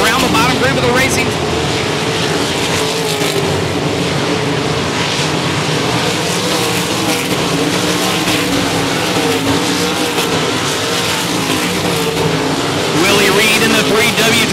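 Stock cars race around the 105 Speedway oval, a dense, continuous engine roar from several cars passing with rising and falling swells, heard under steady race commentary.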